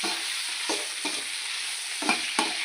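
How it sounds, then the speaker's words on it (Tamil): Ivy gourd frying in hot oil while a spoon stirs it, a steady sizzle broken by four or five short scraping strokes against the pan. "இதை லைட்டாக பெரட்டி விட்டுக்கலாம்"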